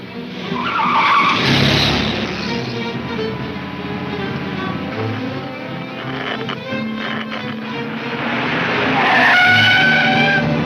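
Tires squeal loudly as a car swerves around a corner in a 1940s police radio drama, the screech swelling and fading twice over a steady engine roar, with no voices.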